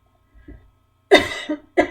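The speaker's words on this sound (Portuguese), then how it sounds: "Tinha que tossir, né?" A few close post-Covid coughs: a soft throat clearing, then a loud harsh cough followed by two shorter ones in quick succession.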